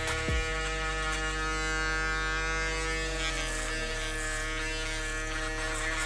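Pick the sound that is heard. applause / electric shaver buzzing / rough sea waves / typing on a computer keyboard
electric shaver buzzing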